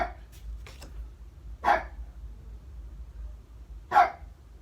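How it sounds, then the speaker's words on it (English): A pet dog gives two or three sharp barks indoors, spaced a couple of seconds apart, moderately close over a low background hum. "That's my dog."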